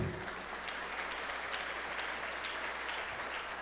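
A church congregation applauds, a dense, steady wash of clapping from many hands that fills the space evenly from start to finish, with a faint hum underneath.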